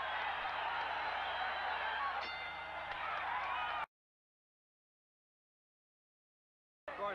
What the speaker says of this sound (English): The crowd coming to its feet.